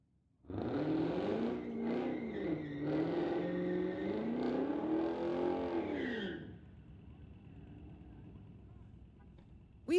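An Audi and a Camaro launch in a street tire class drag race, a loud sustained engine roar rising and falling through gear changes for about six seconds before fading into distant rumble.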